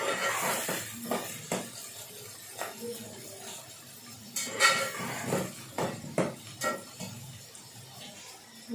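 Potatoes and peas for aloo matar pulao being stirred and sautéed in a pot, with repeated metal spoon scrapes and clinks against the pot in an irregular rhythm, close by.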